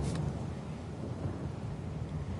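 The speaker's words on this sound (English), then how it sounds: "The storm's pretty loud." Storm ambience from the fantasy role-playing game Pillars of Eternity 2 rumbles on steadily, a low continuous roar of rain and wind with faint distant thunder, even in loudness and with no voices.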